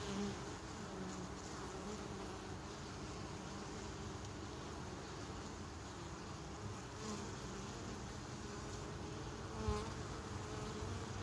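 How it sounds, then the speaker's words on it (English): Honeybees at a hive fighting off a wasp make a dense, steady buzzing drone that stays close and even throughout, with no voices. "These guys are fighting with this wasp right here."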